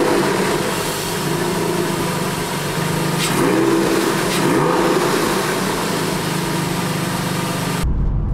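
A Porsche 996 911 engine, running after a Helmholtz resonator bypass mod, starts and settles into a loud, throaty idle with a few revs, close and with no talk, cutting off abruptly at the end.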